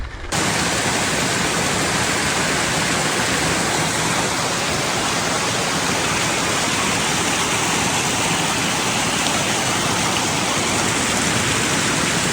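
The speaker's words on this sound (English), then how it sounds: "here's the top St. Mary's Falls, base of falls" St. Mary Falls thunders loud and steady at close range, a continuous broadband roar of rushing water that holds unbroken from start to finish with no talking.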